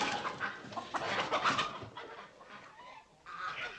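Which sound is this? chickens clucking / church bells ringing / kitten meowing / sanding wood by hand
chickens clucking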